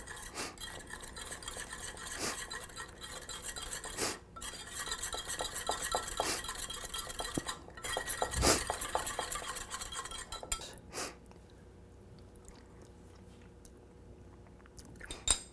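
A spoon clinks and scrapes around a bowl or pan while lemon juice is mixed into a white sauce, with steady close stirring taps and clatters that thin out near the end.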